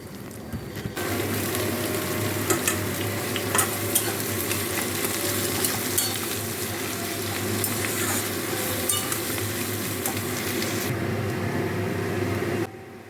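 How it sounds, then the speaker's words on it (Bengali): Onions frying in hot oil with bay leaf in a wok: a loud, continuous sizzle with stirring scrapes, steady for about twelve seconds before cutting off, no voices. "এবার আমি পেঁয়াজ দিয়ে দিলাম কড়াইতে পেঁয়াজ একটু লাল করে ভেজে নেব"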